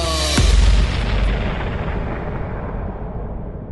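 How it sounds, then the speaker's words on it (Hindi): A single loud cannon blast booms out, followed by a long rumbling echo that slowly fades away. "तोप की आवाज गूंज उठी।"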